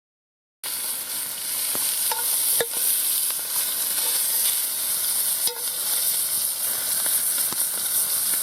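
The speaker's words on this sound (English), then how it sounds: "We're browning the meat." Meat browning in a pan at a Bonfire Night camp, a constant loud close sizzle with intermittent clinks and scrapes of a utensil stirring, no talking heard.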